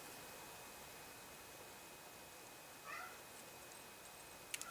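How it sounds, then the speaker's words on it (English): A single short cat meow sounds faintly over a steady hiss of background noise, followed by a couple of small clicks. "a new noise you're going to be hearing around here, kitty."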